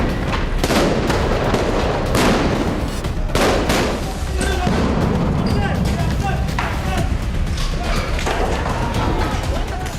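Explosions during fighting between Israel and Gaza: a run of loud, sharp blasts and cracks, some near and some echoing farther off, with commotion between them.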